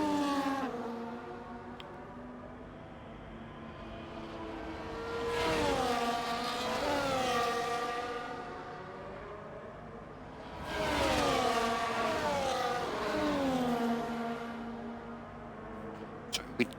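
Race cars roll through a formation lap at Imola in a racing video game, engine notes rising and falling in two long swelling passes as the cars drive by, fairly loud with no talk.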